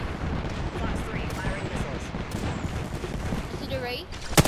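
Missiles firing in the Apex Legends video game come as a dense run of booming, rumbling blasts over continuous battle noise, with players talking throughout.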